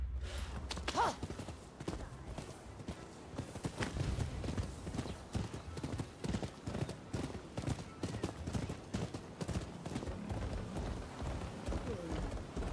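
Horse hooves clip-clop in a steady, rapid galloping rhythm in the Rise of the Ronin video game. The sound is moderately loud and continuous, with occasional soft game effects around it.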